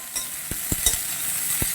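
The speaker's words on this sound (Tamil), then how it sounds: "இந்த வெங்காயத்தை வதக்கணும்னா லைட்டாக" Onions sauté for samosa filling, a soft sizzle in the pan broken by several sharp scrapes of a spoon stirring.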